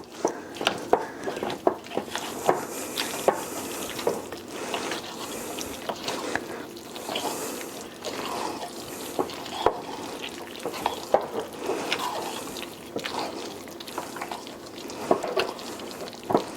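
Mini marshmallows and salted roasted peanuts being lightly mixed into butter fudge in a pot, repeated soft scraping and stirring strokes in an irregular rhythm, close and moderately loud, no talking.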